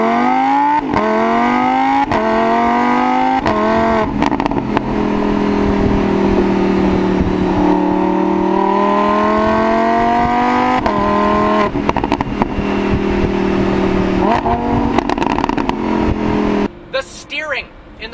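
Lamborghini Huracan V10 engine revving up and down repeatedly, loud rising and falling roars with crackles and pops between shifts, heard close with windows down, ending in a brief burst of crackling.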